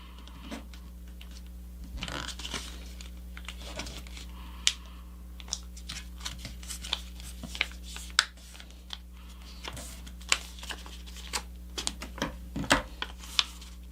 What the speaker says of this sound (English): And then I flip it over and fold this wing to match the first wing.